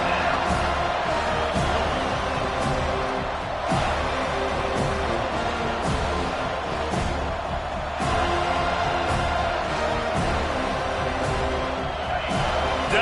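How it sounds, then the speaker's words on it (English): A football stadium crowd roars steadily behind the home defense on a third-down play, forming a dense, continuous wall of cheering with occasional sharp bangs, under a play-by-play announcer's voice. "Decibels rising as the crowd gets behind this defense on third down"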